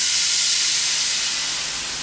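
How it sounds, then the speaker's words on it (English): Red wine is poured into a hot pan to deglaze it, giving an intense, loud hiss of steam and sizzle that fades slightly over two seconds. No one speaks. "I'm going to deglaze the pan"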